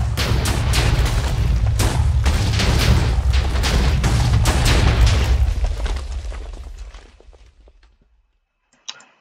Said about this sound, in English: So here's the micro pistol. It lacks in firepower and range.